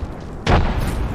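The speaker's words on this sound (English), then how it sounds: "Airstrike," A sudden heavy airstrike explosion booms out in the Apex Legends video game, hitting hard and then lingering as a dense rumbling wash over the rest of the moment.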